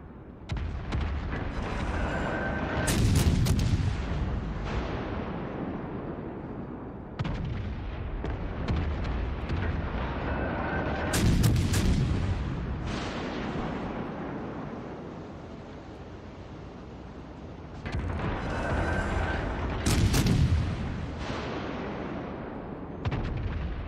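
Enemy ships shelling the player's burning warship in World of Warships Legends: heavy artillery blasts land in repeated loud volleys every few seconds, each decaying into rumbling roar, with no talk.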